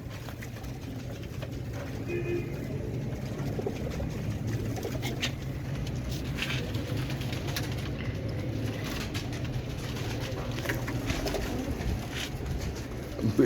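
Bichu breed pigeons coo softly and repeatedly in a steady low burble, with a faint voice and background hum throughout.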